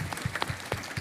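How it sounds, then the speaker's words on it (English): Audience at an interdisciplinary conference giving a brief burst of applause, soft scattered claps heard from a distance for about a second. "So big applause to Piotr"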